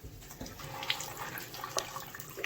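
Water running from a tap into a bathtub, a steady splashing flow with small bright drips and gurgles, close and alone with no talking.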